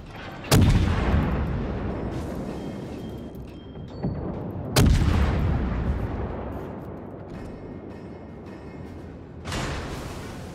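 Heavy naval guns of the Japanese cruiser Kuma in World of Warships boom in three loud salvos, each a sharp blast trailing into a long rumbling decay, spaced a few seconds apart with no talk.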